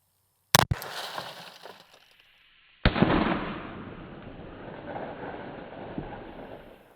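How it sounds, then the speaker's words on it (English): Two sharp .22 shots from a Ruger Mark IV pistol crack some seconds apart into a Ford truck door, each followed by a long rattling spray of shattering, tinkling glass. "We're gonna be shooting it with a Ruger Mark IV."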